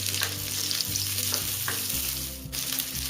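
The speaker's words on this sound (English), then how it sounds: "Now add in the onions" Onions sizzle and fry with garlic and green chili in oil over a very high flame for Indo-Chinese veg Manchurian, a loud continuous crackle broken by a few scraping stirs, with no voices.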